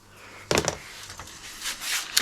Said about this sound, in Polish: Więc wtykniemy mu szuflady na papier.